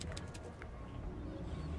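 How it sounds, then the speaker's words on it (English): A pigeon-like bird coos softly inside the game Stacking, a faint, brief murmur over a low steady background hum. "Hello, bird."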